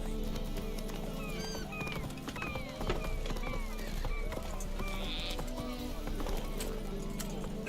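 Roach the horse gallops in The Witcher 3: Wild Hunt, its steady clip-clop of hooves carrying on throughout amid game ambience and chirping birds, with a brief snort or whinny and a voice speaking faintly at times.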